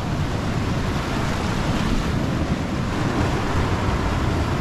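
Choppy sea waves break and splash along the shore at Qawra, Malta, a loud, constant roar of surf mixed with gusting wind buffeting the microphone and no voices.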